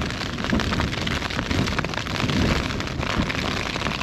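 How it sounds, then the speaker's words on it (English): Heavy rain pounds a tent in a windy storm in the Lakes, a dense, loud and unbroken hiss of drops striking the fabric close by, with gusty rumbling underneath and no talking. "Oh, that rain is getting worse."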